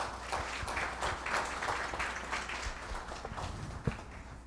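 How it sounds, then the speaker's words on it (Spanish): An audience claps at a youth open parliament session in Chiapas, an uneven run of hand claps with irregular individual slaps, moderately loud and continuous throughout. "Un aplauso, por favor."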